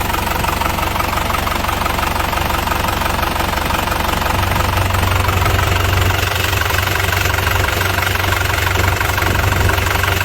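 Used car engine idling with the hood open, a loud, steady close-up mechanical drone with rapid rhythmic ticking and knocking throughout, no talk.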